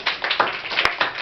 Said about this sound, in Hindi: ताली बजाओ बेटा जोर से